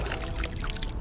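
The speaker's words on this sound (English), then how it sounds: "Just let the juices out here in front of us in the water." Juice from a cracked-open can of corn trickles into river water in one short, close pour.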